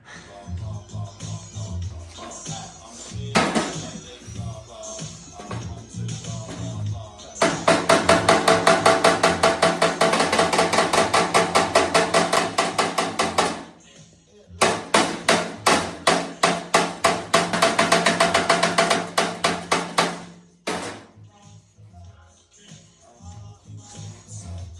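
A hammer and dolly shape a car body panel around a gravel guard: two long runs of fast, ringing metallic blows, loud and close, separated by quieter pauses and lighter isolated taps.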